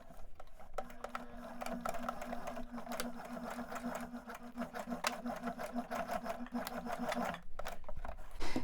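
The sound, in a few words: sewing machine stitching a pants waistband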